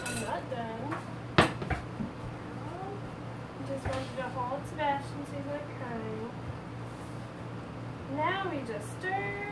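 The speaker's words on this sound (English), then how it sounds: "And now I just stir." Sourdough bread batter stirred in a bowl in a home kitchen, with soft spoon scrapes and occasional clinks against the bowl under steady talking and children's voices.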